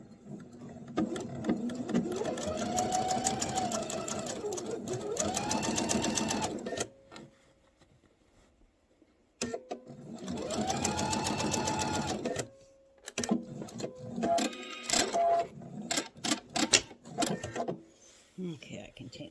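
Domestic sewing machine stitching a quilted star heart table runner, motor whirring in two long runs with a pause between, then shorter stop-start bursts, close and clear.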